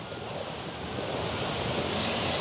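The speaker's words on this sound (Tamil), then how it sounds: "தண்ணி கொதிச்சுட்டு" Water boils hard in a pot in a village kitchen, with steam rising, ready for steaming drumstick-leaf puttu. It makes a steady, dense, close rushing and bubbling hiss that holds even throughout, with no talking.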